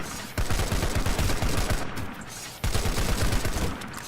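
An automatic gun fitted with a compensator and advanced forward grip fires in a video game, with two long rapid bursts of gunfire heard close and loud, separated by a brief pause.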